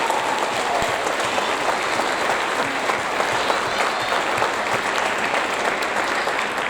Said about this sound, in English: Now let's give them a big round of applause.